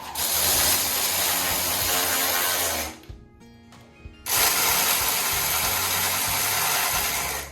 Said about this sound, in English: tighten down the anchor bolts on the other side